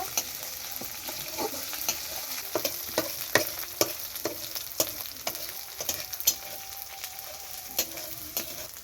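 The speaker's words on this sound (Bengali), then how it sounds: "আমরা এখন জিরা দিয়ে নেব জিরা পরিমাণ মতো তারপর আমরা একটু নেড়ে করে নেব" Cumin seeds frying in a pan and stirred with a utensil, giving a soft steady sizzle broken by frequent sharp scraping and tapping clicks at an uneven rhythm, close and moderately quiet, with no talking.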